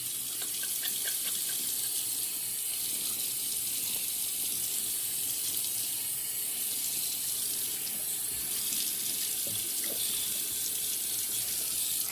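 A bathroom tap runs steadily into a sink as water is splashed on the face after a shave, a continuous close hiss of flowing water with faint splashes.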